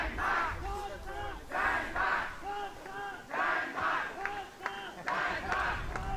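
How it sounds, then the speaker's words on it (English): Spectators at the Nordic Youth Championship 2023 archery individual finals cheer and chant together in rhythmic rising bursts, a moderately distant crowd whooping for their competitor. "Crowd is really enjoying themselves."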